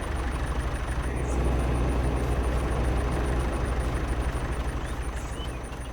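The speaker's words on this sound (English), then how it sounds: "I should turn the other John Deere tractor off also," A John Deere tractor engine idles in Farming Simulator 22, a steady low diesel rumble that holds even and close for the whole stretch, with a faint high electronic whine above it and no voices.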